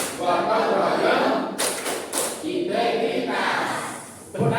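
A class of students claps and chants the tepuk PPK routine together, with loud, rhythmic bursts of group claps alternating with chanted voices in a classroom.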